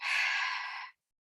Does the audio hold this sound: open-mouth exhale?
yes